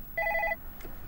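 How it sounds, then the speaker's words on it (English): A telephone ringing once, a short electronic trill of rapid alternating tones lasting about half a second, followed by quiet room background. "Your phone is ringing."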